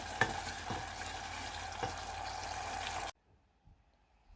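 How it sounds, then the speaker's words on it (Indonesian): Sambal goreng with chicken gizzards and potatoes sizzles and is stirred in a pan, a close, steady frying hiss with a few scraping strokes, cutting off abruptly after about three seconds into near silence. "Sekarang mau bikin sambal goreng ampela dan kentang."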